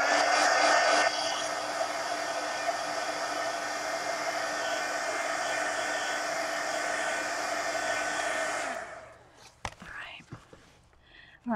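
A hair dryer blows on a wet page of a Halloween adult coloring book, a steady, loud, even whoosh for about nine seconds before switching off, followed by faint small handling sounds.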